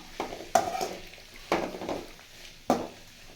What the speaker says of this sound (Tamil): கொஞ்சம் ஒரு ரெண்டு மூணு நிமிஷம் வதக்கினா போதும்